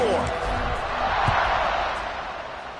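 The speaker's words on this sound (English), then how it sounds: "this crowd is buzzing after that last score" A football stadium crowd keeps up a broad, steady buzz beneath a commentator talking over it, with faint thumps and cheers scattered in the wash of noise.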